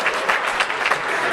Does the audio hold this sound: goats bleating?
no